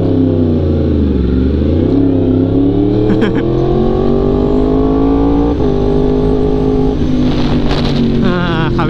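A Yamaha R1M motorcycle exhaust set to H2 mode roars loudly up close in a continuous drone, its pitch rising and dipping through repeated revs, with sharp crackles near the end.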